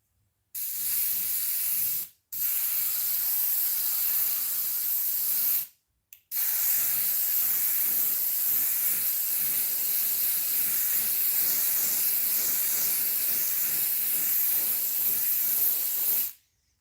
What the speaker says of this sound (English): some of them I can get to spray, but others seem to just clog the airbrush